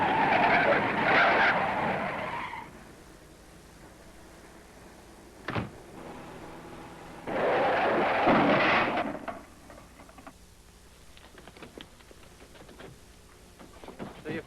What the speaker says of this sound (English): Now, slam on your brakes.